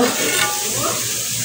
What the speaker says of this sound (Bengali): আলুটাকে ভাজছি